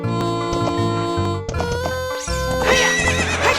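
A horse in the game Zelda: Ocarina of Time whinnies loudly with a rising, wavering neigh, joined by clip-clopping hooves and game music, with no talking.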